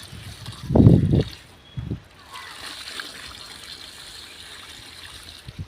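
Water is poured onto a newly planted tree in sandy soil, giving a loud splashing gush followed by a softer trickle and soak, with someone talking nearby.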